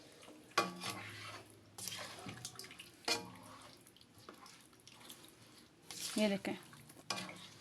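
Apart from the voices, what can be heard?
mixing beef korma ingredients in a pot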